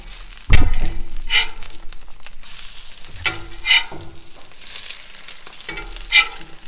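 Eggs frying on a Blackstone flat-top griddle, a steady close sizzle with a few sharper bursts of spatter and scraping as they cook, no talking.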